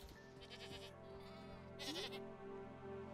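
Goats bleat in the farming game Echoes of the Plum Grove, a couple of clear nasal calls over soft background game music, with no talking.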